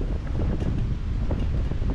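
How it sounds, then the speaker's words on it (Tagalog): Strong wind at a seaside campsite in Unisan, Quezon, buffets the microphone in dense, continuous gusts with a heavy low rumble, and no voices break through. "Malakas ng hangin ngayon dito."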